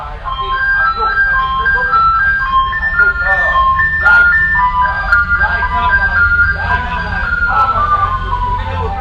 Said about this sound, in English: how the sound of my neighbors fighting was silenced by the ice cream truck